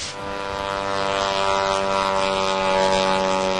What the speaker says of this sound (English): There's a sense of expectation as Daniel makes his takeoff run down Rapid Lake.